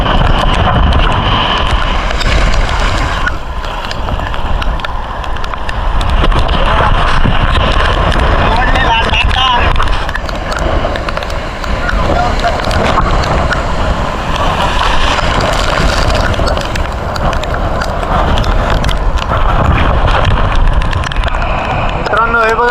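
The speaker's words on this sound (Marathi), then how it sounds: "लाटा पूर्ण आमच्या अंगावरून जात आहेत" Rough sea waves surge and crash over a small fishing boat during a prawn catch off Dahanu, with loud continuous roaring water and wind buffeting, while people talk and shout over it.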